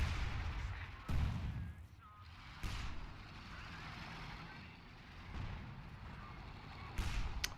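Distant artillery booms thud repeatedly in a Battle for Caen wargame at Bretteville, heavy low blasts spaced a few seconds apart over a rumbling battlefield bed, with faint talk underneath.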